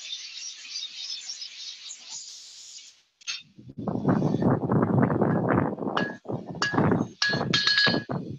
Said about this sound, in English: Since I'm setting this rivet from both sides, I do partial set on one side and a partial set on the other side.